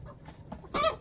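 Hens clucking near a drinking container in a backyard coop, a few soft clucks early, then a louder burst of squawking as birds squabble close by.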